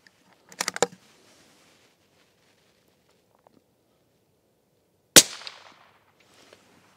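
A CZ 457 rifle's five-round single-column magazine, chambered in 17 HMR, is seated and released: a quick cluster of close metallic clicks, a pause, then one sharp snap with a short rattle.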